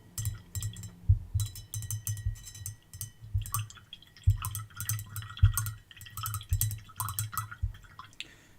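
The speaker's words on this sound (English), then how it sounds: "rinse some brush" A paintbrush swished and tapped against a jar of rinse water during watercolour painting, with a run of quick, close splashy dabs and light clinks in an irregular rhythm, no voices.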